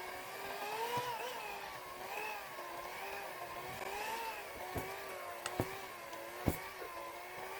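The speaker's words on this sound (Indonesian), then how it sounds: "ini masih lengket adonannya, kita mixer lagi ya" An electric mixer kneads sticky donut dough with a steady, wavering motor whine close by, its pitch rising and falling as it works, broken by a few sharp clicks and knocks near the end.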